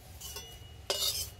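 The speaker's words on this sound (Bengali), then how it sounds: "কারি পাতাগুলো ভাজা হয়ে গেছে, এবার তুলে নেব।" Fried curry leaves lifted out of a pan with a metal utensil: a light clink, then a brighter scraping rattle close by, with no talk.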